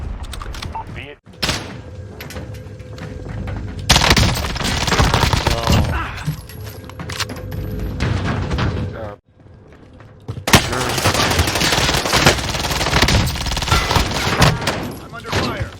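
Gunfire bursts from a multiplayer shooter video game, loud and sustained in long stretches with brief gaps, mixed with game sound effects and players talking over it.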